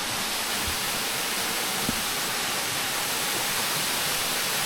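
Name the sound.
waterfall in a Colombian village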